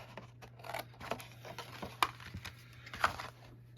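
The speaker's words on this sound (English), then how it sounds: "we're gonna cut like this on the score line on both sides" Scissors snip through cardstock along a score line while a treat box is cut out, a handful of close, crisp crunching cuts at irregular intervals over a low steady hum.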